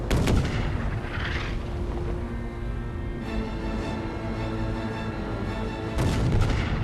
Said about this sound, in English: As the Hood sinks, the forward gun crew heroically fires a final salvo.